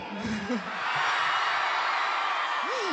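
An audience at a film song launch event shouts and whoops loudly and without a break after a brief spoken line, and the crowd roar keeps building to a sustained wall of cheering.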